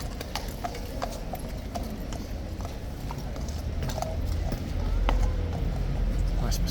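A mounted trooper's horse clip-clops steadily on hard ground in a ceremonial guard setting, hoofbeats close and regular over crowd murmur and traffic.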